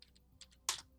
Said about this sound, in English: Let's try typing it out.